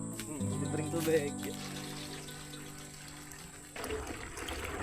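Water runs steadily in the background while a person talks over it, the flow growing louder and broader near the end.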